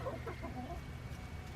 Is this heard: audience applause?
no